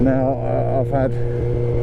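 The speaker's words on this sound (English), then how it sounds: "So this has got a 4:1 stubby on it, as you can hear rumbling away in the background" A Honda CB400 Super Four with a 4-into-1 stubby exhaust rumbles steadily at idle in the background, a low continuous drone under someone talking close to the microphone.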